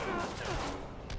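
A brief burst of rapid gunfire from thugs in Marvel's Spider-Man, heard as dense overlapping shots within loud game noise lasting just over a second.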